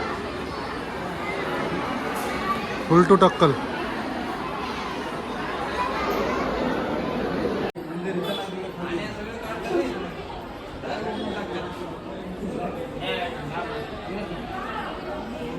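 Dense crowd chatter fills a busy head-shaving hall at Tirupati Balaji temple, many overlapping voices murmuring steadily at close range, with a brief louder burst of voices early on and someone talking over the hubbub.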